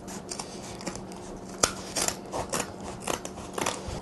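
Scissors snipping through upholstery fabric at the front corner of an ottoman being re-covered, a series of crisp close cuts with one sharp click, irregular and clear with no voices.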